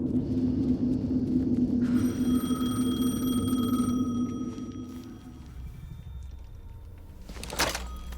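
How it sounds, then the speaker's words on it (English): A telephone rings in Alan Wake 2, its electronic tone sounding in a sustained burst over a low ambient hum, then fading, followed by a short thump near the end. "The phone again."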